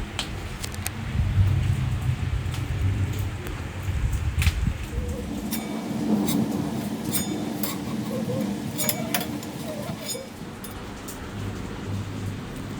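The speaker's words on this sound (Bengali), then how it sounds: "বাইরে ভীষণ বৃষ্টি হচ্ছে আর খুব মেঘ ডাকছে" Heavy rain falls steadily outside with a low thunder rumble beneath, heard from indoors with doors and windows shut; scattered clinks and small knocks cut through the continuous wash.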